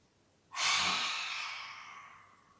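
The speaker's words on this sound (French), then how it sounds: "on va expirer par la bouche en sortant la langue, de façon à éliminer encore plus les toxines" One long, breathy exhale through the mouth with the tongue out during a yoga breathing exercise, close and soft, rising suddenly then fading slowly.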